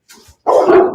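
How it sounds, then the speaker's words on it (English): A dog gives one short, sharp yelp, loud and close, with nothing else heard around it. "One of my dogs yelped."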